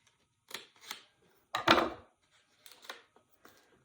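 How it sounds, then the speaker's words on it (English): A few short, crisp snips of sharp scissors cutting paper up close, spaced irregularly, with one longer cut in the middle. "That's where those nice sharp scissors come in handy."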